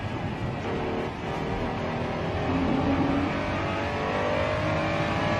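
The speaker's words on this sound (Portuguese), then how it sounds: "E agora ele vai dar umas bombadas no acelerador aí," Ayrton Senna's race car engine revving hard as the throttle is blipped on a corner exit, a loud, steady, close engine roar with rising pitch, no voices.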